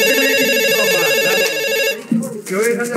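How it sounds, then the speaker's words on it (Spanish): Telephone ringing loudly in a theatre scene, a continuous electronic ring under excited shouting voices before it cuts off. "Están llamando al teléfono."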